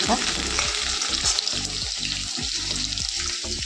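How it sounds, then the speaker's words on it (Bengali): Potatoes fry in white oil in a home kitchen pan, a constant close sizzle broken by occasional clatter, with faint tonal background sounds. "আলুটাকে ভেজে নেবো তারপর ফুলকপিটা রান্না করবো"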